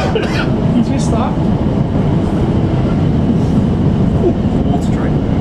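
A South Western Railway Class 455 train rumbles along between London Waterloo and Wimbledon, a steady low onboard drone with faint rattles and squeaks, heard up close.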